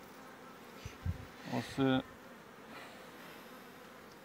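Local honey bees drone steadily at an open hive during spring inspection, with a continuous soft hum and a brief spoken phrase partway through.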